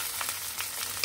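Cut potatoes fry in hot oil, making a steady, dense, moderately loud sizzle with a few small crackles and no talk.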